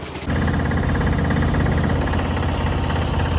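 An old mud mower tractor, pulled from the weeds after years, fires up and runs loud and close with a rough, knocking, shaky mechanical chug that starts abruptly and holds steady.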